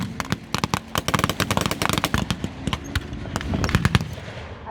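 Artillery shells explode in a WW2 battle as a dense, continuous run of sharp cracks and bangs with rumbling underneath, loud and steady, no voices over it.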